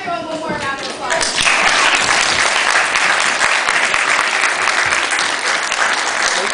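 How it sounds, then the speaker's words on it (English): Audience at a children's Horton Hears a Who stage play bursts into loud, sustained applause after a brief voice at the start, the dense clapping filling the room steadily to the end. "let's give everyone one more round of applause"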